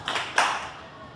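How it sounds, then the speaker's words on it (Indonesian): Participants in a classroom activity clapping their hands, two or three quick sharp claps close by, then fading. "Atau tepuk tangan aja, tepuk tangan."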